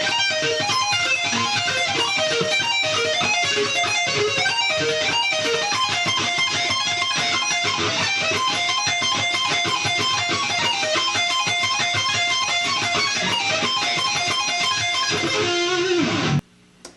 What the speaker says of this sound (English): Some sweep picking. It sounds like this.